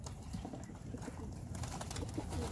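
Pigeons in a loft coo softly and repeatedly at close range during bathing time on a hot day, a steady low murmur of several birds with no talking.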